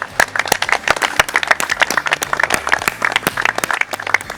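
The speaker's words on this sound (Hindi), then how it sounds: "मीनाक्षी, पद्मा के लिए सबसे जोरदार आगे तालियां हो जाए भाई एक बार" Audience at a live yoga session applauding a challenge winner, loud irregular clapping from a modest group, close and continuous for several seconds.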